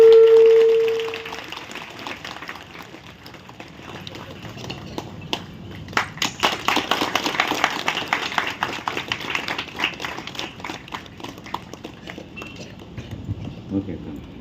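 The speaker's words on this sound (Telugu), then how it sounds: "స్వామి చప్పట్లు కొట్టండి." Hands clap at an Ayyappa temple ceremony honouring donors, starting quietly and swelling into sustained crowd applause with irregular sharp claps, while a voice speaks over a loudspeaker at the start and chanting voices continue underneath.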